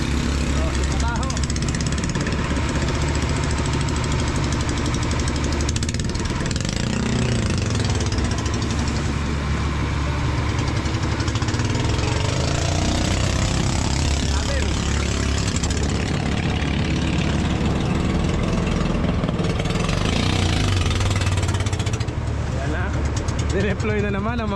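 A small fishing boat's freshly oil-changed engine runs steadily and loudly up close, a continuous low rumbling drone that holds throughout while someone talks over it.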